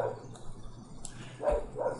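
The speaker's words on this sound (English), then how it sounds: "Dogs barking, obviously." Dogs bark in the distance, a couple of short, faint woofs spaced apart, with no voices.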